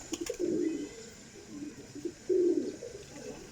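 Two distinct coos from a Salara Cheena pigeon of a flying breed, each a short throaty burst about two seconds apart, loud and close with quiet between.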